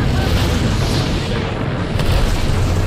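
A grenade explosion in the Apex Legends video game: a loud, dense rumbling boom that fills the whole moment without letting up.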